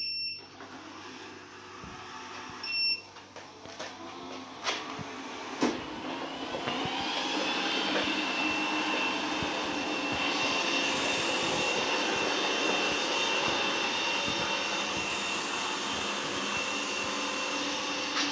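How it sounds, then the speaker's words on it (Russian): A robot vacuum cleaner starts up indoors for the first time: after a few faint beeps and clatter, a steady high motor whine and brush hum rise around six seconds in and run continuously at close range. "Ну что, первое включение робота-пылесоса?"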